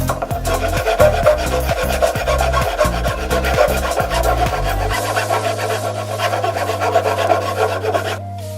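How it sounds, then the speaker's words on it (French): Metal file rasping inside the notches of an Assassin's Creed spear prop, a close, steady back-and-forth scraping in quick regular strokes that turns into a continuous rough grind, with no talk. "je vais prendre la lime et à l'intérieur je vais en fait limer pour que ce soit plus propre"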